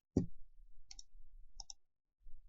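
Computer mouse clicks during SolidWorks 3D modelling of a crank part, a few faint, sharp clicks spaced apart in a quiet room, one slightly louder click first followed by quick double clicks.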